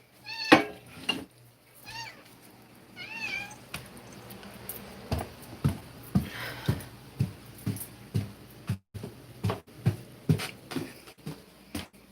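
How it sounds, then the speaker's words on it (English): Several cats meowing indoors, a few clear close meows early on followed by a steady run of short, rhythmic cries and yowls repeating about every half second, fairly loud with no talking. "these cats are driving me absolutely bonkers"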